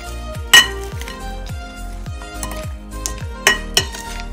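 A spoon mixes a protein salad in a bowl, giving a series of soft rhythmic stirring scrapes and thuds with a few sharp clinks of metal against the dish.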